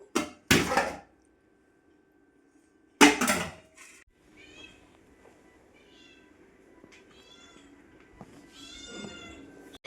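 Two loud bursts of sound stand out early, then a cat meows several times softly in the background among faint, scattered noises.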